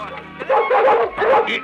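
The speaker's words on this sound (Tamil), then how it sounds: "புது நாய் இழுக்குது, யாருக்கு கட்டுப்பட மாட்டேங்குது" Dog in a Tamil comedy film scene gives a few quick, loud, close yips and barks in short bursts, with a voice mixed in around them.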